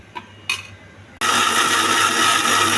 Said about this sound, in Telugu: ఈ చల్లారిన టమాటా, పండుమిర్చి మిక్సీలో వేసేయాలి.